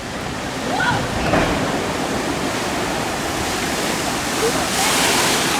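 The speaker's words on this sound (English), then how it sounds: "There's a pretty good sized log flume in the middle of the park in the Viking area. The big finale here is this double dip drop." Log flume ride in a Viking-themed amusement park area, with rushing, splashing water from the double-dip drop as a steady broad roar that swells slightly, with faint distant voices underneath.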